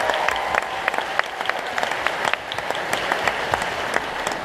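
An audience at a fan convention panel applauds a sign language interpreter with dense, steady clapping that holds at an even level throughout.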